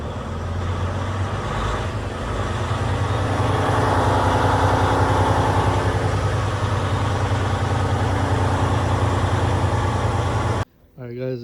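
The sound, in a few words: DD15 diesel truck engine running after fuel pump priming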